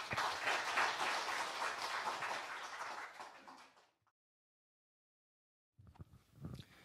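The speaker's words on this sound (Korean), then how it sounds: "여러분 큰 환영의 박수 부탁드립니다" Audience at a philosophy lecture forum claps to welcome a speaker to the podium, a moderate burst of applause fading out after about four seconds, then a short silence before faint room noise and movement.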